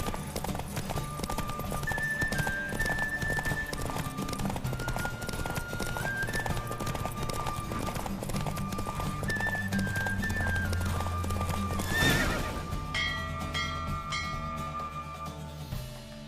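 Rapid hoofbeats of a horse galloping in a race in The Witcher 3: Wild Hunt, a continuous rhythmic clip-clop under game music, with a loud whinny partway through.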